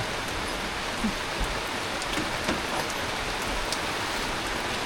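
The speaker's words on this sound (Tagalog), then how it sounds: "Lalo lumakas ang ulan" Heavy rain pours steadily in a dense, unbroken hiss on Coron island, with occasional louder drops striking nearby surfaces.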